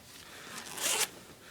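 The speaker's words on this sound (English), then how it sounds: "Kind of a plasticized zipper." A plastic zipper on a camo parka is unzipped in one short, close rasping pull that swells and cuts off sharply, alone in a quiet room.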